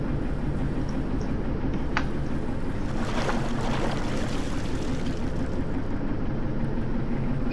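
Water rising around an old vehicle as it sinks in the Stormworks game: a steady, dense wash of rushing, churning water and wind-like noise fills the whole stretch, with a few faint clicks, and no voices.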